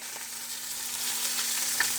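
Korean sea fish sizzles steadily in hot oil, a constant crackling hiss with occasional small pops, close by and without talking.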